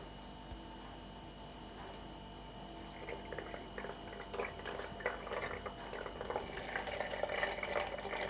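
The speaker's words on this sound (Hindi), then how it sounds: "Let's put it in the hot water bag." Hot water being poured into a hot water bag, a soft bubbling, gurgling trickle that grows busier toward the end, faint and close, with no talk.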